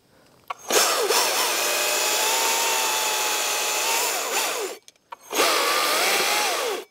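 A chainsaw cuts a notch into a tree during tree work, a loud close buzzing whine that runs steadily for about four seconds, stops briefly, then starts again for a second cut.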